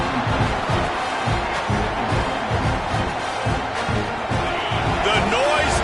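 Loud, steady stadium crowd roar in an NCAA 26 college football video game, a continuous wash of noise on second down with a commentator talking over it.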